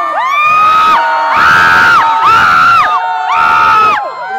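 A large crowd at a fan event in Singapore cheers and shrieks loudly, with high whoops rising in surges that sweep back and forth, close and overwhelming.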